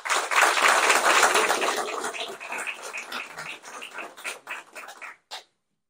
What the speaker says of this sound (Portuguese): Peço uma salva de palmas para vocês